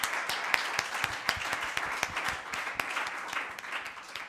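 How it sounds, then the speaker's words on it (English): Conference audience applauding the speakers at the close of an academic session on fundamental rights; a moderate room full of steady clapping with distinct sharp claps, sustained evenly from start to finish without voices. "So give them a good applause before."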